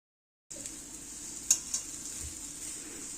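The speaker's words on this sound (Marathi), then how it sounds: "हे मिश्रण दोन मिनटं मस्त परतून घेऊया" Leftover chapati crumble mixture being sautéed in a pan, a soft steady sizzle with a couple of light clinks of a spoon stirring against the metal, heard close and quiet after a brief silence.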